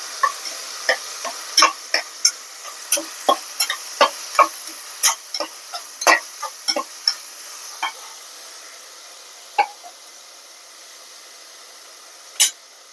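Tomatoes stirred into frying onions in a pan for a Rajasthani dal bati meal: a steady sizzle runs underneath while sharp spoon scrapes and clinks land in an irregular rhythm, thinning out toward the end with one last late knock.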